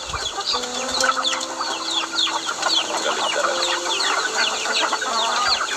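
Chickens cluck and squawk in a busy, continuous chorus, with a person briefly speaking over the flock.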